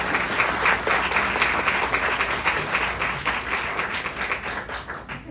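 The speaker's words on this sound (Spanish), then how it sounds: "le damos un aplauso y que nos platiques" An audience at a conference on independent book writing applauds a speaker, steady dense clapping sustained throughout at close range with no talk over it.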